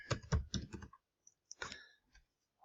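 A short run of quick, close typing clicks on a keyboard, heard in brief bursts with pauses between them and no voices.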